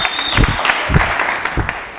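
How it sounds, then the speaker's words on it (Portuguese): A small crowd at a rap battle event applauds, uneven clapping with a few louder bursts over a steady background hum, lasting about two seconds. "Vamos aplaudir o Preto Chato"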